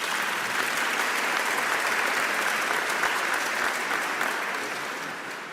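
Sustained audience applause fills a cathedral during a jubilee celebration, a dense, steady wash of many hands clapping for over five seconds, fading slightly toward the end.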